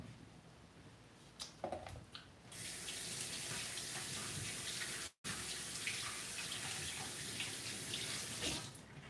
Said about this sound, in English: Oh, my water's up to a boil.